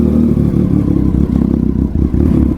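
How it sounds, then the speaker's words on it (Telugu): A superbike engine runs in a narrow residential lane, a loud close low-pitched throbbing rumble with steady clattery pulses and no voices. "మా గలీలో బండి స్టార్ట్ చేస్తే డిస్టర్బెన్స్ అవుతుంది"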